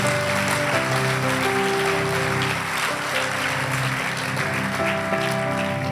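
A church crowd applauds steadily and evenly for several seconds while sustained musical tones play underneath, moderately loud and continuous.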